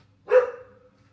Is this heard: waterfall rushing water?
no